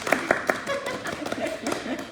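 Scattered hand clapping from a small audience at a live meditation event at the Y, a few sharp claps at first then looser uneven clapping, with faint chuckling and murmurs mixed in.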